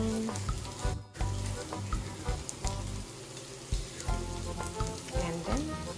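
Chili, tomatoes and green onion stir-frying in a pan, a close steady sizzle broken by scraping stirs and clatter, alone without talk.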